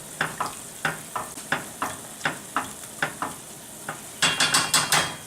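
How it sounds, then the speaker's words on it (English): A spoon scrapes steadily through a saffron food mixture in a pan, making about a dozen rhythmic strokes over a faint sizzle. The last few strokes come quicker and louder. "Okay, mix everything real nice."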